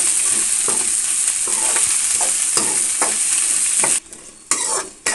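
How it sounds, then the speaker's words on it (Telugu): Loud, steady sizzle of dried fish frying in a pan on a low flame, with repeated stirring scrapes, briefly dropping away near the end before the sizzle resumes. "ఇప్పుడైతే ఇవి తాలింపులో వేసుకొని ఫ్రై చేసుకోవాలి"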